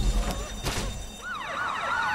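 Police sirens wailing in GTA V Online during a Pacific Standard bank heist, rising and falling sweeps that layer over one another after a couple of low thumps, steady and fairly loud.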